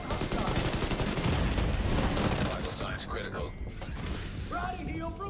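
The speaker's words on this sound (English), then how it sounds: "Firing on hostile." Assault rifle gunfire in a video game, bursts of rapid shots with mechanical clatter through the first half, then sparser sounds and voices speaking.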